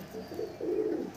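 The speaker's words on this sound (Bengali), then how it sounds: "কালদমা ঘোড়ার লেগদার পায়রা।" A kaldoma racing leather pigeon gives a soft, low, throaty coo that swells in two rolling pulses and is heard fairly close and quiet, with no talking.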